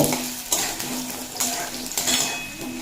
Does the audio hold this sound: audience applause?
no